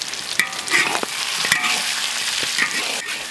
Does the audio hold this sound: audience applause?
no